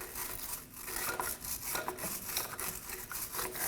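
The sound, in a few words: wire brush scrubbing corrosion off a shaft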